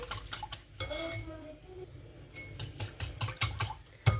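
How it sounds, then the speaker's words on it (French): Milk being whisked into crêpe batter in a bowl, quick clinking utensil strokes against the bowl in uneven bursts with quieter stretches between, close and fairly soft. "600 g de lait que je mesure, que je mélange"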